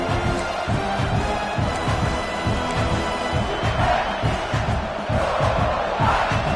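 A football stadium crowd at a Florida versus South Carolina college game roars in a loud, continuous wall of shouting and cheering that swells and dips.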